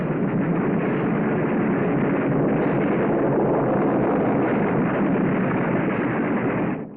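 Anti-aircraft guns on a WWII carrier fire at an attacking torpedo bomber, a dense, loud, continuous roar of massed gunfire with no breaks, recorded with a muffled, band-limited quality.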